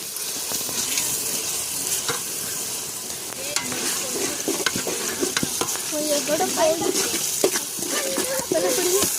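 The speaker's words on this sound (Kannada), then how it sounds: "ಇದನ್ನು ಹಾಕಿ ಫ್ರೈ ಮಾಡ್ಕೊಬೇಕು" Ingredients for tomato bath fry in a pan with a continuous close hiss and crackle, with frequent clicks and scrapes of stirring and a faint voice in the background.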